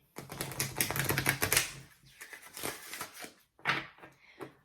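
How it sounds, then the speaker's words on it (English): Brisk riffle shuffles of a small stack of about 15 to 20 tarot cards, rapid flutters in two bursts separated by a brief pause, close up. "So I'll shuffle 1/2, set it aside, and then I'll take the other half and do the same shuffle"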